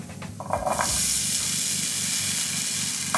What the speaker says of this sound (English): And a nice sizzle sound.